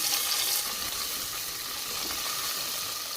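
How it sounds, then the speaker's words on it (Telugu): Steady, close sizzling of ginger garlic paste frying in hot oil, a continuous crackling hiss with no voices. "జింజర్ గార్లిక్ పేస్ట్ పచ్చివాసన పోయేంత వరకు ఫ్రై చేసుకోవాలి"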